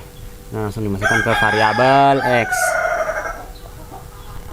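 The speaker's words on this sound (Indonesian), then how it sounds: "itu suara ayam tadi" A chicken crows loudly and close by, with a drawn-out rising and falling call followed by a few clucks. Someone speaks quietly over it.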